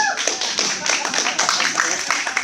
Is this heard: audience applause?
yes